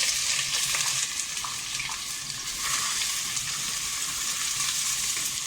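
Onion sizzles and crackles in hot oil with cinnamon, a dense steady frying hiss with occasional stirring scrapes, close and continuous.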